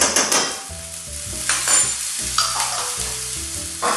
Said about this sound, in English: I just have some leftover rice here that I'm going to add in